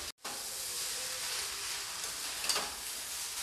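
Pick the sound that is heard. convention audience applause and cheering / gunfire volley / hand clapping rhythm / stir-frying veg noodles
stir-frying veg noodles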